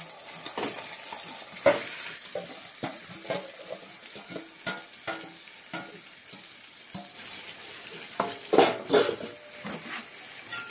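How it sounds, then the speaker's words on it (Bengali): Marinated chicken sizzles in a pan for biryani while being stirred, with a continuous crackle broken by repeated scraping spoon strokes and clattering knocks against the pan, fairly close. "চিকেনটা দিয়ে ভালো করে কষিয়ে নেব।"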